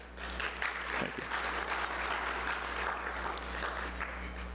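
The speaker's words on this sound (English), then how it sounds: "Give her another round of applause" An audience applauds a poster award winner at a medical lectureship ceremony, with steady, dense clapping filling the room throughout and no voices over it.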